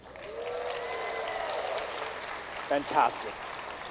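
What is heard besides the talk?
audience applause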